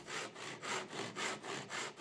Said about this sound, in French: Sciez sur mesure avec une scie à dos.